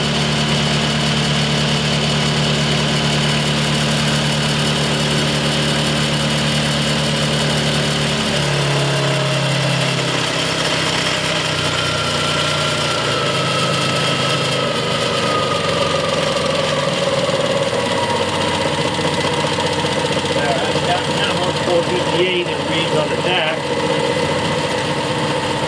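A Clausing lathe with a repaired variable speed drive runs with a steady mechanical hum that shifts in pitch partway through as the speed changes, close and continuous, with someone talking at times over it.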